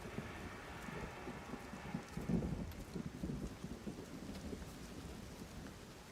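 Steady rainfall with deep rolling thunder in the video game Everybody's Gone to the Rapture, a dense continuous patter that swells briefly around the middle and carries on evenly throughout, with no voices.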